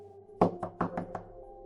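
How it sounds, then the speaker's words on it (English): Five firm knocks on a door in a quick, slightly uneven rhythm, close and resonant against a quiet low hum, set in a snowbound house during a storm. "Another knock, same rhythm."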